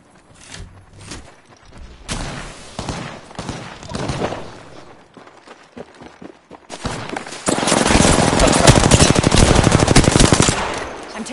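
Gunfire in the video game Apex Legends: scattered single shots and short bursts, then a loud sustained automatic volley near the end, close and dense.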